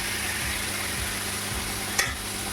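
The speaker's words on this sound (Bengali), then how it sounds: "ওর মধ্যে বেটে রাখা মশলাটা এই যে আমি দিয়ে দেবো।" Ground spice paste hits hot oil in a pan for prawn malai curry, giving a steady, loud, close sizzle throughout with a brief scrape of stirring near the end.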